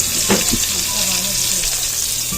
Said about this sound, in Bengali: অল্প অল্প করে দিয়ে মাছটা ভেজে নিচ্ছি